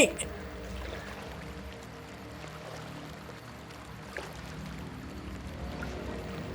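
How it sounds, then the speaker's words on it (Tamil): Flowing water in the horror video game Outlast 2, a steady rushing and trickling wash that holds throughout, with a voice talking over it. "இந்த இடத்துல கொஞ்சம் தண்ணியோட வேகம் அதிகரிக்குது"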